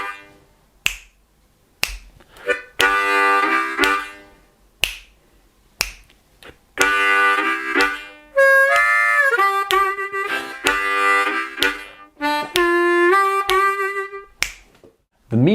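A blues harmonica plays short, punchy chord bursts in a rhythmic vamp, separated by sharp clicks and brief pauses, with longer wailing bends in the middle.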